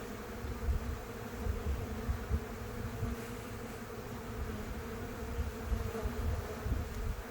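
Honey bees swarm around open beehives on a sunny day, a dense, steady buzzing hum from many insects, with individual bees droning nearer and farther as they pass close by.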